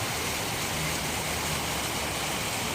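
Broadband rushing roar of a river waterfall at Tumwater Falls, steady and unbroken throughout, loud and close with no voices over it.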